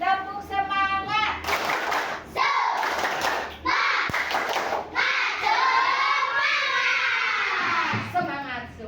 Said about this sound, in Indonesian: Kita tepuk semangat dulu ya, biar semangat ya.